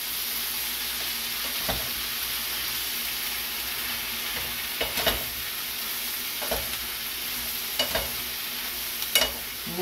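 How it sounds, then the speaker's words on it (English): Turnip sabzi with Indian spices sizzles steadily in a pan, with a handful of sharp scrapes and knocks as it is stirred and turned over, close and fairly loud, no talking. "So I'll just give this a little stir."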